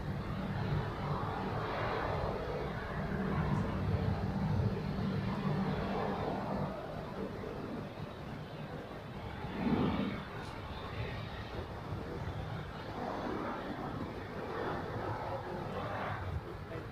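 Airliner jet engines roar faintly and distantly at Zurich Airport, a broad, steady wash of sound that swells slightly and then settles.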